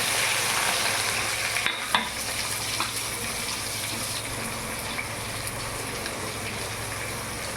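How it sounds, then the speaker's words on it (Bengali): Onions frying and sizzling in hot spiced oil tempering for a fried-masala chicken curry, a steady broad crackle with a few brief stirring clinks, alone without talk. "এবার পেঁয়াজগুলো আমি ফোড়নে দিয়ে দেবো"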